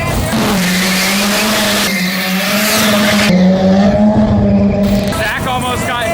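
A 900-horsepower Ultra 4 off-road rig roars loudly nearby with a steady droning engine note and tire skid noise throughout, while people talk and shout over it.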